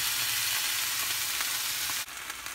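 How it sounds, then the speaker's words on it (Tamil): Tomatoes sauté in a pan with a dense, even sizzle up close and brief faint stirring touches. A small clunk comes near the end, and no one talks. "இப்போ தக்காளி சேர்த்து கொஞ்சம் தக்காளி மசீர வதக்கி நம்ம அதை வந்து வதக்கி விட்டுக்கலாம்."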